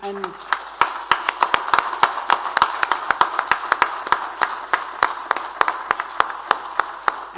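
Applause at an Indian metering industry conference panel on sustainable utilities, with many separate claps ringing out steadily and fairly close throughout, some hands louder than others, over a low murmur of room sound.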